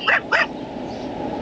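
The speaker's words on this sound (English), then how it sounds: "Pim Pim's whining" A puppy being taken to doggy daycare gives two short, high whines in quick succession, close by, followed by a quiet background hum.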